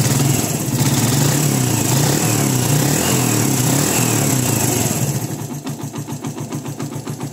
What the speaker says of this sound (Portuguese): Tá trabalhando menos de 1000 giros, só para vocês notarem como está bem reguladinho o carburador